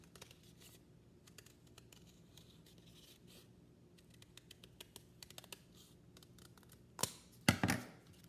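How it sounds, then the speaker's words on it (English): Scissors cutting out a small paper heart shape: faint, soft snips and paper rustles against quiet room hiss, ending in a couple of louder, closer cuts. "Now I'm going to cut out the little side."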